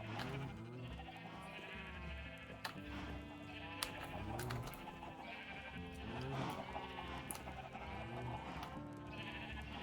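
Sheep in a Minecraft pen bleat over and over in overlapping wavering calls, close and steady, with constant animal noise and no talk.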